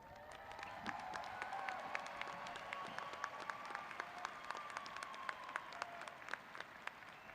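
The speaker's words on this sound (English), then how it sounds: "Yeah, you deserve that applause, believe me." Applause from a university commencement crowd congratulating graduates, a steady dense wash of clapping with some cheering over a low murmur, moderately distant and sustained throughout.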